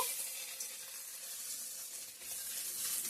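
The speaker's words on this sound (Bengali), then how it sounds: "জল দিয়ে ডালটা সিদ্ধ হয়ে গেছে এখন ফোড়ন দিয়ে দেব" Dried red chillies, bay leaves, white cumin and crushed ginger temper in hot oil for boiled dal, giving a faint, steady hiss of sizzling with no breaks.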